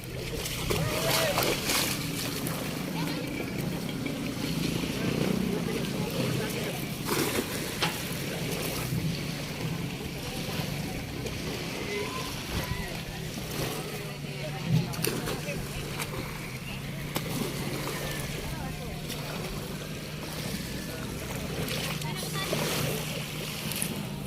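Boat engine drone and water splashing against the hull, with wind buffeting throughout and voices talking now and then.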